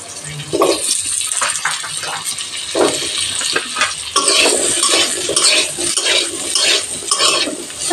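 Long strips of potato, dusted with salt and a pinch of turmeric, fry in hot mustard oil in a kadai, giving a steady bright sizzle with repeated scrapes and clinks of a spatula stirring against the pan.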